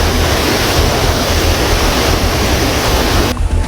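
Rushing floodwater from the breached Tuntang River embankment in Grobogan, Central Java, roars loudly and continuously, a dense close churning wash with no voices, dropping briefly at the very end.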